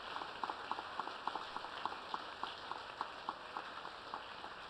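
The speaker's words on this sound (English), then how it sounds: "give him a big round of applause" Audience applauds at an award ceremony as a winner goes up to accept, with scattered, fairly faint claps in a loose rhythm, heard from some distance.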